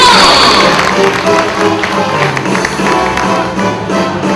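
Audience at a company's 20th anniversary event clapping and cheering together, a loud, dense, continuous wash of applause and crowd noise filling the room from start to finish.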